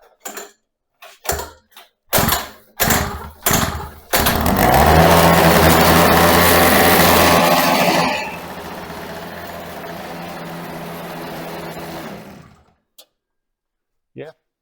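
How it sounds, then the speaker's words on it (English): A small petrol engine on a toolbox go kart started by pull cord: several sharp rattling pulls, then the engine catches and roars loudly for a few seconds before settling into a steady idle that cuts out. "She starts. I wouldn't say first pull, but second pull cord."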